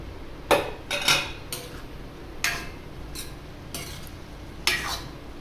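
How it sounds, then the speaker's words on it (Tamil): A metal lid clatters off a pot of simmering sambar, with several sharp clanks and scrapes of metal on metal spread over a few seconds, close by, with no talking. "மூடி எடுத்துடலாம்."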